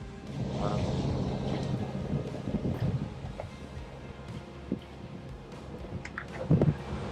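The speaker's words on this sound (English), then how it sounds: "as you can hear in the background, I've got a wind tunnel effect happening through here." Wind blowing through a narrow gap beside a narrowboat's hull, a steady broad rushing with gusty surges and occasional faint knocks and clatters, close to the microphone throughout.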